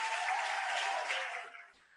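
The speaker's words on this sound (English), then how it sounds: "Let's give her a round of applause" A convocation audience applauds an acting vice president of instruction, a dense even wash of clapping that holds steady and then fades out within two seconds.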